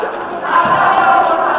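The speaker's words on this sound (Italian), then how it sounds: "applauditissima dal suo pubblico" Home crowd at a women's basketball final in La Spezia roaring and applauding, a dense loud swell of cheering that grows stronger partway through and holds steady.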